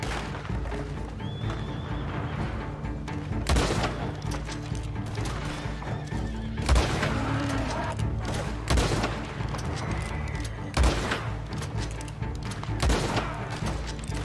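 Gunfire in Red Dead Online cracks out in several loud, separate shots spaced a few seconds apart, mixed with horse whinnies and clip-clopping hooves across an outdoor game scene.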